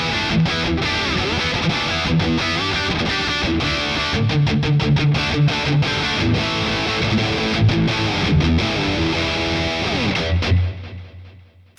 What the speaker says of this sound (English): here's the same riff one more time, but I've added some panning delay and a reverb